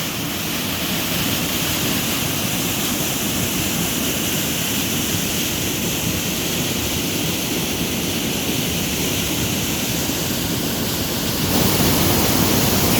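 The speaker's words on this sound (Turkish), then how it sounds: "Şu an şelalenin hemen üstünde yanı başındayız." Kuşkaya Waterfall near Kışlacık, Kırklareli, Turkey, roars steadily and loudly up close, heard from just above it, a constant broadband rush of falling water that never lets up, with no voices.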